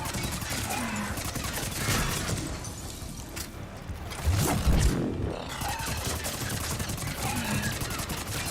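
Dense sci-fi gunfire in the Mass Effect 3 video game, sustained crackling weapon bursts and heavy impacts forming a loud continuous combat din with a short voice exclamation.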